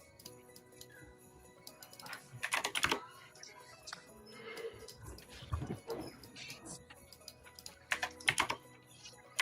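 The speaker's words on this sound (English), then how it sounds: "love the sound of a good keyboard. My clacky keyboard." Fast, clacky typing on a mechanical computer keyboard, with dense bursts of key clicks and some heavier thumps, close and fairly quiet, with faint background sounds.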